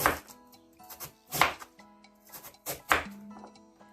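A knife chops carrots for a jar of zucchini preserves made without sterilizing, giving about five sharp board strikes at uneven intervals, close and clear with no talking.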